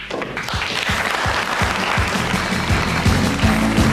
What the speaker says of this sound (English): including people from the embassy, cheering on the maestro